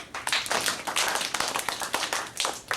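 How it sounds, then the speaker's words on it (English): A crowd claps together in a dense, lively burst of applause that holds steady throughout. "Give yourselves a big round of applause."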